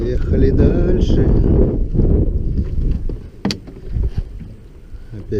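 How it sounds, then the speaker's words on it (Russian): Wind buffets a small boat out on open water during spring fishing, a rough roaring rush of gusts against the microphone with knocks and creaks, while people talk nearby. "Опять ветер поднимается."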